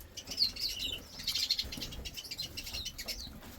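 Brown pastel siskin hen flapping off inside an indoor birdroom among native finches, with a soft wingbeat flutter and bright high chirps and tweets scattered across the moment, fairly close.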